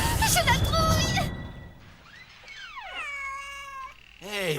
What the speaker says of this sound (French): Vous reconnaissez pas un miaulement de chat?